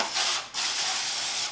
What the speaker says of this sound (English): I'm gonna use some spray.